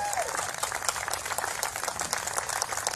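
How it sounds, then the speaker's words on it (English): Crowd applause at a gun legislation rally in Cleveland, a dense steady wash of many hands clapping that fills the whole stretch at moderate loudness, with no break. "How about a round of applause for all the moms who didn't get their name called out here"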